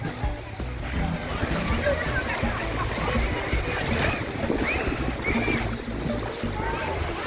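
Steady, continuous roar of surf washing over Bakkhali sea beach in West Bengal, with wind buffeting the microphone and a murmur of crowd voices mixed in throughout.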